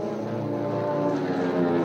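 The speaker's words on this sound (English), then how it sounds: "The engine slowed and faltered." Aircraft engine effect from a Tarzan radio drama: a loud, steady droning engine with a layered harmonic hum that wavers slightly as it runs, with no voices over it.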